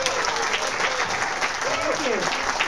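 A debate audience applauds the three candidates, a dense, steady wash of clapping filling the room while a voice speaks over it.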